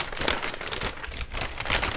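A paper bag packaging a Tushy bidet crinkles and rustles as it is handled up close, a continuous dry crackle lasting a couple of seconds.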